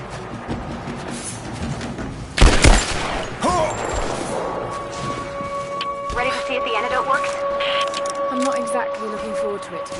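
A loud burst of gunfire in the Tomb Raider video game, clustered sharp cracks early on, then a rumbling, rain-like game ambience with tonal effects and talk running through it.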